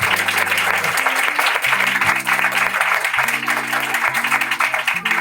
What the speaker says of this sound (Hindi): पाकरू के लिए जोरदार ताली लगाएंगे।